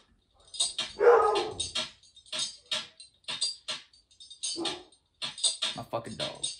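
A dog barks and yips intermittently through a busy beat of clicky hi-hats and jangling keys, the barks fairly close and mixed among the percussion.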